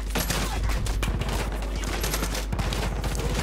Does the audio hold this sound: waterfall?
no